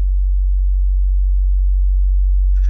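A steady low-frequency test tone plays in a room during acoustic testing for bass treatment, holding a constant hum alone throughout, with a faint brief burst of broadband noise at the very end.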